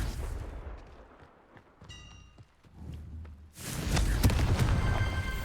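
A Confringo fire spell from the Hogwarts Legacy video game goes off in a sharp burst of blasts, then a loud, sustained roaring explosion rumbles through the final seconds after a few softer thuds and clicks.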